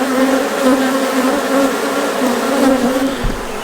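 Honey bees buzz loudly and continuously around a wooden bee box at close range, a dense steady drone with no talking.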